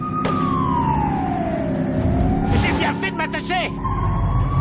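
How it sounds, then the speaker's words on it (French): A police siren in The Godfather II video game wails in a long rising and falling sweep, loud and continuous, with someone speaking over it and brief bursts of game noise. "Attendez, Sirène."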